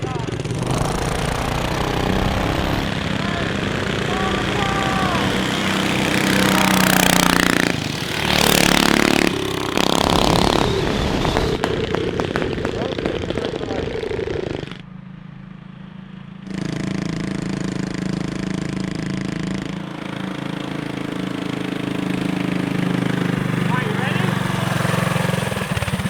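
A junkyard Briggs & Stratton engine on a vintage mini bike runs close by with a loud, rough, sputtering clatter that revs and surges, dips briefly to a quieter idle, then picks back up, with people talking over it.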